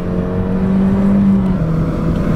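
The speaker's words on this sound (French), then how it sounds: "Le moteur il vit." A Citroën car engine runs loud and steady while driving, with a sustained droning note and a slight rise in revs partway through, close up and with no talking.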